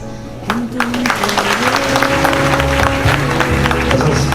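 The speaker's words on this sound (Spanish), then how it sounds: "Esos aplausos son para ti, Naomi." Loud, sustained applause and cheering from a crowd at a quinceañera celebration, close and continuous, with a held musical tone running underneath.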